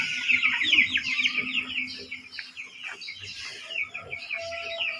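Chicks and hens in a brooding pen make a dense, continuous chorus of high peeping and chirping with softer clucks underneath, close and fairly loud throughout, with no talking.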